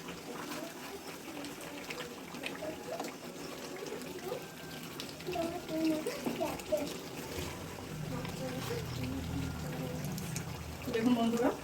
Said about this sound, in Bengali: দেখুন বন্ধুরা, আমি জলটা দিয়ে দিলাম